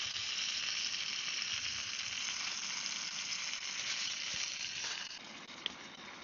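A pork chop and zucchini sizzle in a camping cookset outdoors, giving a steady close frying hiss that fades a little near the end, broken by one small sharp click.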